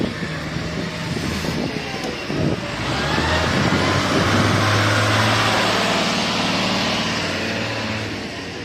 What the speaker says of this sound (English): this is my brother-in-law scraping all the muck and grass off the driveway